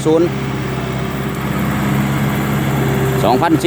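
A turbocharged 2,434 cc direct-injection diesel engine of a Kubota M6040 tractor idles with a steady low rumble and hum, while someone talks briefly over it at the start and end.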